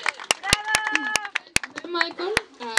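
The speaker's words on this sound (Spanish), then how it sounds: "¡Fuerte el aplauso!" Children at a clown party clap in sharp, uneven bursts of several hands at a time, while excited young voices chatter and shout throughout.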